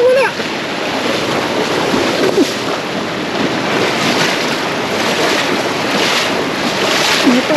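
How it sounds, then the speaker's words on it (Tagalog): Water released from a dam roars in a loud, unbroken rush, with wind buffeting the microphone throughout and faint voices now and then. "Nagpakawala na po ng tubig sa dam."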